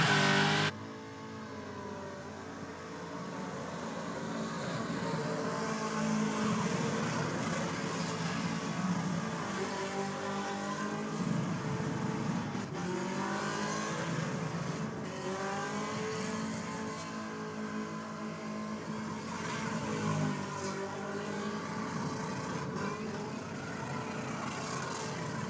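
A car revs hard and continuously during a tyre burnout, pouring smoke out of the back. The loud engine roars and surges in pitch for about twenty-five seconds with no let-up, mixed with tyre noise.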